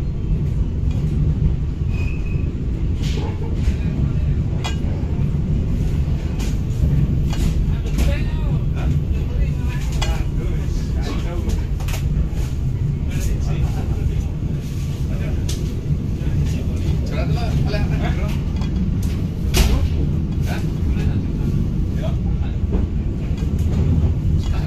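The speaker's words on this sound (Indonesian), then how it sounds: "Keretanya lewat pemukiman padat penduduk," A Jayabaya economy-class passenger train rolling through a dense settlement, heard from on board: a loud, steady rumble with rhythmic rail clicks and rattling carriage, continuous throughout, with a voice speaking over it.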